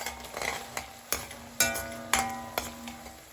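Onion paste fries in a pan while a spoon stirs it, giving a steady sizzle broken by about six sharp scraping clinks against the metal, close and clear with no talking.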